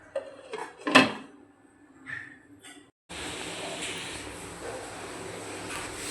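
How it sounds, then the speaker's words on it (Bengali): A metal lid set onto a pot of basanti pulao lands with a single sharp clank among a few small clicks, and a steady low hiss follows. "জল দেওয়ার পর ঢাকনা দিয়ে দেব।"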